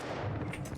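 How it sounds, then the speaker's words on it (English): Gunfire in a video game comes as a quiet, muffled burst of rumbling shots, somewhat distant and faint. "Taking fire!"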